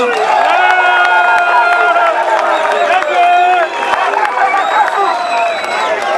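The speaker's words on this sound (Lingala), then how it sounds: "Applaudissez pour vous-même" Crowd at a UDPS political rally cheering loudly and continuously, voices shouting and ringing out together in a dense roar, with some clapping mixed in.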